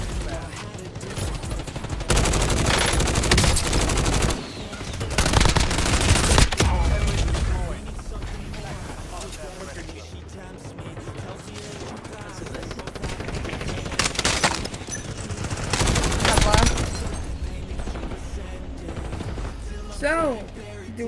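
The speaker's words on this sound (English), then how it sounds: "Enemy precision airstrike." Heavy bursts of gunfire and explosive barrages from an enemy precision airstrike in a shooter video game, loud rattling volleys coming in waves with a calmer stretch between them, and voices heard in the mix.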